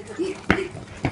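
A dog outdoors on a cut lawn gives short whimpering yips, two sharp brief bursts a half second apart over a soft whiny tone, close and moderately loud.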